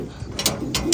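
Pigeons with their chicks give soft, low coos close by, a few short throaty pulses in a quiet space, mixed with faint clicks and rustles.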